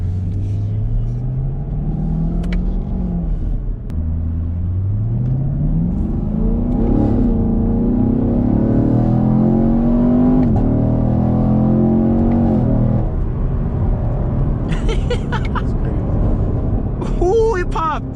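A 2020 Chevrolet Camaro SS engine revs and climbs through gears with a loud rumbling tone, rising and falling pitch, and sharp exhaust pops near the end, all under excited speech from people riding inside.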